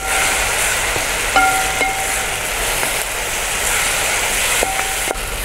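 Chopped onions with salt frying in a pan for Kerala-style mutton curry, giving a loud, steady broadband sizzle close up, with a few brief metallic stirring clinks and scrapes, no voices.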